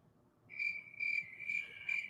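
A person imitates a cricket with four evenly spaced, shrill chirping bursts, clear and close over faint low background rumble.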